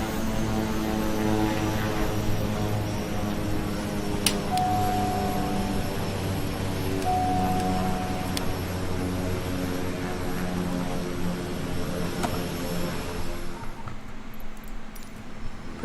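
A Kodiak 100 turboprop idles on the ground in Microsoft Flight Simulator, a steady droning propeller hum with a high turbine whine, continuous and close, tapering off near the end as the engine shuts down.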